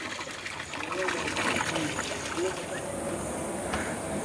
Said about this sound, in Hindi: अभी ये पानी भरा रहा है।